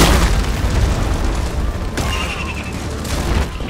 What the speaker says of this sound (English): Can't hear you past all the explosions and minigun fire.